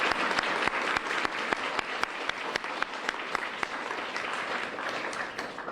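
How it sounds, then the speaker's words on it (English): Sustained applause from an audience at a college honors event thanking donors, dense steady clapping throughout with no talk over it. "we should just give them a round of applause"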